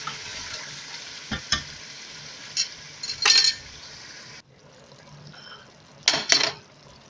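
Beef, yogurt and spices fry in a pot with a bright sizzle, punctuated by clinks and scraping stirs, the hiss briefly dropping before flaring again.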